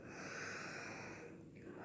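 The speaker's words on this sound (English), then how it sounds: "Take a deep breath in and release." A deep breath drawn in and slowly released, a faint airy rush with no voice over it.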